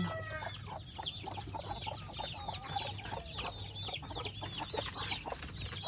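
Chickens cluck steadily in a coop in a dense, overlapping chorus, with a soft hum underneath and no talking.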